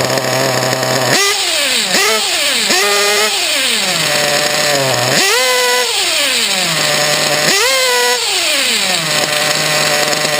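A small RC model engine with a freshly adjusted carburetor buzzes loudly and nearby, revving up and falling back to a raised idle several times in a rasping, high-pitched whine.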